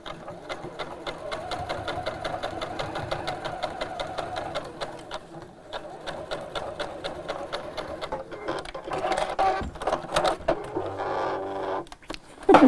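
A sewing machine runs a triple stitch through fabric, its needle chattering in a fast steady mechanical rhythm close by, with brief pauses and a louder burst toward the end.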